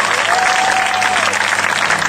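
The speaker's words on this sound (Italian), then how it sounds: "Un applauso sempre" Live band concert audience applauds, a dense wash of clapping from a crowd that holds steady and loud for the whole stretch.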